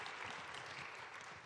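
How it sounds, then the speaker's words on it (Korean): A live audience at a talk applauds in a brief, even burst of clapping, quiet and distant-sounding, with no voices on top. "박수가 나야 되겠죠, 이럴 때?"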